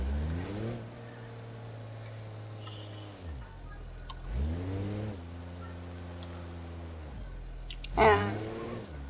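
A car engine in the BeamNG driving game revs up and down in three distinct bursts, the pitch climbing and falling each time, with a sharper rising rev near the end. It sounds alone, at moderate loudness, with no talk.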